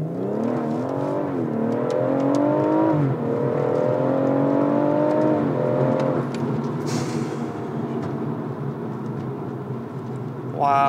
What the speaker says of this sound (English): That was a wet launch from 0 miles an hour, just foot flat down, and it just went.